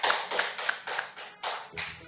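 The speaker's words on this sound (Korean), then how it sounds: "하나님께 영광 박수드리겠습니다." A church congregation clapping in praise at a Wednesday service, a series of roughly rhythmic bursts of many hands clapping together, loud and close, ending in a final round of claps.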